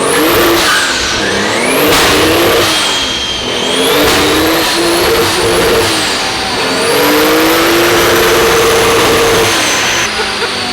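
Toyota 2JZ engine revving hard on a dyno, loud and close, climbing through high-pitched sustained pulls with rising and falling revs and a long wide-open run near the end.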